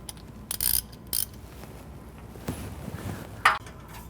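A ratchet working on the catalytic converter bolts of a 2000 Honda Civic, giving short quick clicking bursts and metallic taps close by, separated by brief pauses.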